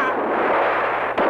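A cannon fires in a film scene, giving a loud, sustained boom that fills the whole moment, followed by a sharper second report near the end.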